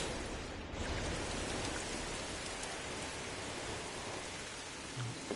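Steady rain in the video game No Man's Sky, a continuous dense hiss of falling drops at an even, moderately loud level throughout, with no voices.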